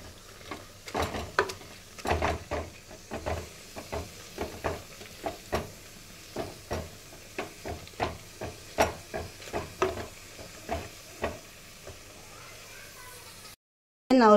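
Cooked puli keerai (sorrel leaves) being mashed in a pan, heard as a steady series of soft, rhythmic thuds and scrapes at close range, regular strikes continuing for most of the clip before a brief silence.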